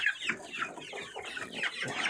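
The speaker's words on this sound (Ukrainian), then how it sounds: "Сьогодні наших експериментальних курчат переселили вже в їхнє постійне місце дислокації." Young chickens in a cage cheep and cluck repeatedly close by, a busy chorus of short chirping calls with no talking.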